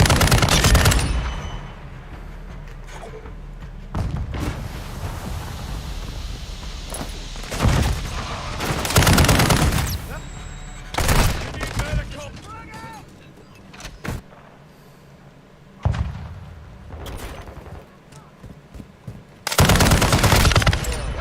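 Call of Duty: Modern Warfare II firefight with repeated loud automatic bursts and single shots, some very close and others farther off, interleaved with radio-style voices speaking between volleys.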